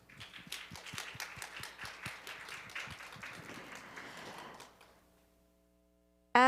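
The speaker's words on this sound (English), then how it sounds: "Please give them another big round of applause." Audience applause for forum panelists at a ROK-US public-private economic conference, a dense run of claps that fades out over the last seconds into near silence.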